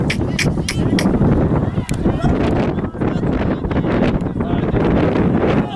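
Blustery outdoor wind buffets the microphone in loud, continuous rumbling gusts, with people talking faintly underneath.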